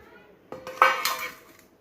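Potatoes are tipped into a kadai already holding eggplant while cooking a mixed vegetable small fish curry, giving a short clatter of metal and utensil knocks after a quiet start, then fading.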